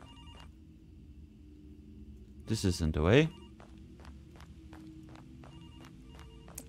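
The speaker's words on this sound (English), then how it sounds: "A phone's ringing." A telephone rings faintly and repeatedly in the horror video game Graveyard Shift, set in a cemetery, continuing under and after a short burst of speech.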